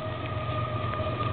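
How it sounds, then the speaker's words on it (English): Train rumbling steadily near a highway and an old Esso station in Wolseley, Saskatchewan, a continuous low roar with a sustained horn-like tone, no pauses across the short stretch. "the train, which you can hear thundering up"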